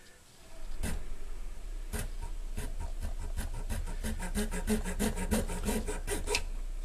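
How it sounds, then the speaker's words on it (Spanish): A flat file rasps steadily across a workpiece clamped in a bench vise, cutting a small notch. The strokes are close, quiet and evenly rhythmic, repeating for several seconds. "nos apoyamos en el tornillo de banco y con una lima plana"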